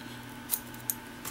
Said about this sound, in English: we're just going to basically trim the top wing, or trim some for the top wing rather.